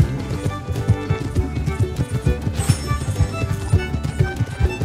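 Horse hooves pounding at a gallop in the Western video game Red Dead Online, a rapid drumming rhythm under continuous game sound and music.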